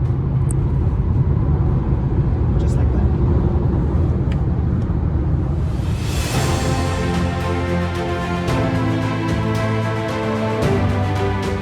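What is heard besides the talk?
Volvo C40 Recharge electric car accelerating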